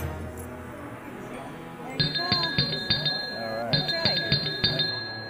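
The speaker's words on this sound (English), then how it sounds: "when you hear the bell ring" A bell rings with bright, sustained metallic tones at a guest ranch lodge, calling guests to dinner, sounding over a background murmur of people talking.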